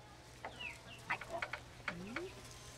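Farm chickens cluck nearby in short, scattered calls with one rising squawk, quiet and outdoors over a faint steady hum.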